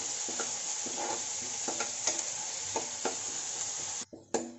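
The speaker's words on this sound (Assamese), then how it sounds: "আদা নহৰুৰ গোন্ধটো যোৱালৈকে অলপমান ভাজি।" Ginger-garlic paste sizzles steadily in hot oil alongside cumin and onion, with a spoon scraping and stirring the pan in regular strokes about once a second, close and continuous until a brief pause near the end.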